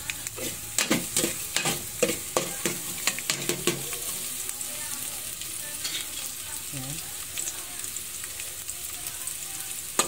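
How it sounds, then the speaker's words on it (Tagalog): Garlic sautés in a pan with a steady sizzle, while a utensil scrapes and taps against the pan in a quick run of knocks, then the sizzle goes on more quietly. "Gisa-gisa ang bawang."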